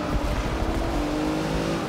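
A Rolls-Royce Dawn convertible powers out of a corner in Forza Motorsport 6, its engine note droning steadily and loudly under acceleration, with tire and road noise beneath and no voices.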